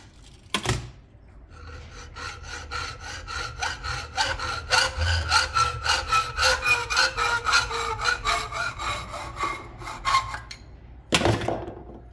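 A 300 mm length being hand-sawn for a DIY snuffer bottle, a steady run of rhythmic back-and-forth rasping strokes, close and fairly loud, framed by sharp knocks at the start and end.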